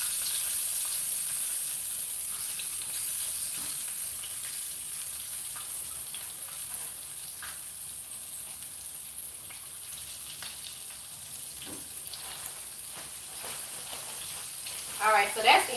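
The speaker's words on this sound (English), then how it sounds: "We're gonna put the last of those onion rings in here." Battered onion rings fry in a pan of hot oil, a constant bright sizzling hiss sustained at an even level with occasional faint pops, rising to a brief bubbling burst at the very end.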